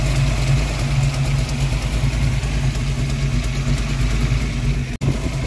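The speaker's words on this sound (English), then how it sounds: "The tapping on the driver's side of the engine" Ford Mustang engine idling steadily and close, with a faint tapping on the driver's side suspected to come from a loose or unadjusted rocker, a continuous low rumble with no talk.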